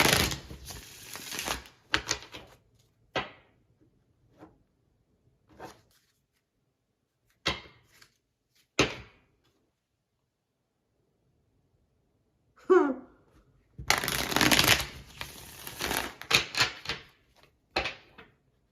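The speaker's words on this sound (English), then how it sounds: "I need to pull some tarot cards for this." Tarot cards being shuffled and handled, with a few separate crisp papery riffles and flicks scattered through long quiet gaps, then a denser burst of shuffling near the end, close and fairly loud.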